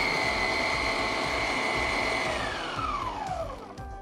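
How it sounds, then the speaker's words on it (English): Food processor running with its number five large shred blade, shredding a wedge of cabbage: a steady loud motor whine with shredding noise throughout, the pitch dropping toward the end as the load changes. No talk. "Insert our wedge of cabbage and simply press start."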